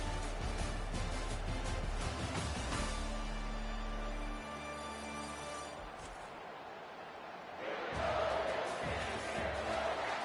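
Stadium crowd in the college football video game NCAA Football 25, a continuous roaring cheer that dips partway through and then swells again, with no talk over it.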